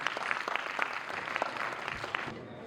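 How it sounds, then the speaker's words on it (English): Audience applause at a Kubernetes tech talk, a steady patter of many hands clapping at moderate distance, fairly soft, tapering off at the end. "give it a round of applause"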